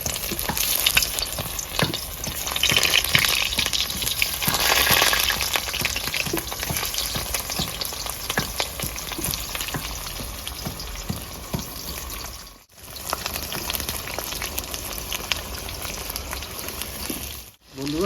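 Five or six very hot green chillies frying in hot oil give a continuous, loud crackling sizzle up close, with stirring scrapes and two brief dropouts near the end; no one speaks.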